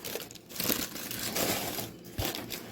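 Paper packed between a new pair of Jordan 4 OG White Cement sneakers crinkles and crumples close up, in a steady run of rustling handling with a few sharper crackles.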